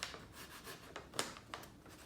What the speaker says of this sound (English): Now I'm going to take a pencil and rub it across